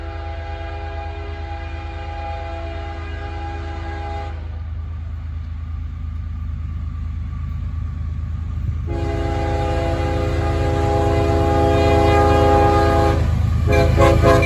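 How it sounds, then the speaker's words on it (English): A CSX freight train rumbles steadily past in Blasdell, New York, with a loud, sustained horn blasting in long chords, the rolling noise building as it nears. "we got a CSX train heading down the line"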